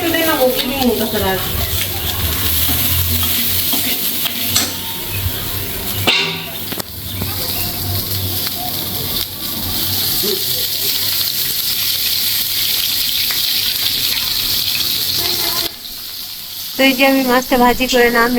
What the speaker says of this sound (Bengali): তো এই যে আমি মাছটা ভাজি করে নামি